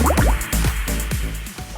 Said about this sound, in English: we're gonna burn in the pan the necessary amount of mix for 1 pancake